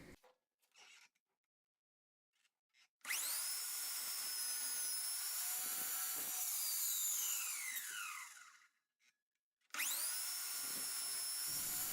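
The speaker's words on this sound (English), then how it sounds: "using the chop saw here was really fast and surprisingly accurate" A chop saw cutting slots in plastic lure storage pieces, two loud whining cuts of several seconds each, with the blade spinning down between them and quiet handling noises before.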